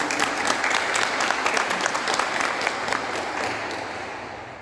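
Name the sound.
applause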